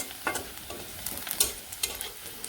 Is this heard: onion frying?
yes